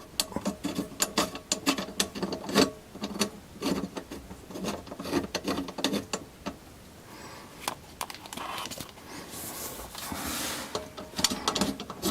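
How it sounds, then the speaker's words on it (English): Screws being tightened on a kitchen sink garbage disposal, close scraping, clicking and rubbing of a screwdriver and metal parts in irregular bursts, settling into softer grinding toward the end. "So now I have to tighten these screws up."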